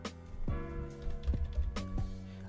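Light, rapid typing on a computer keyboard runs steadily throughout, close and fairly quiet, with a few heavier keystrokes standing out. No one speaks.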